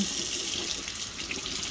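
Cold water from a kitchen tap runs steadily over an onion being peeled in the sink, a close, continuous splashing hiss with no voices.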